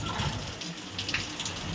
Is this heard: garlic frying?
no